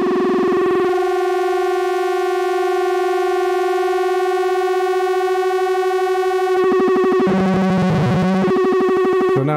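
A harsh, distorted feedback-patched synthesizer drone for a horror soundtrack holds a buzzing, feedback-laden tone, then turns more chaotic and wobbling near the end, loud and unsettling.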